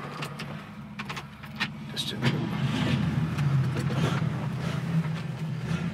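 A 1967 Ford Mustang Coupe engine idles steadily and close by, a low continuous rumble with a brief rise near the start, while a person talks over it.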